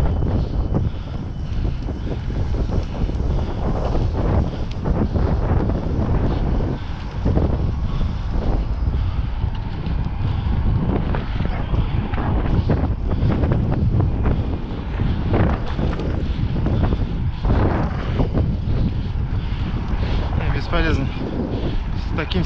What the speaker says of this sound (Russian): Таким сильным ветром.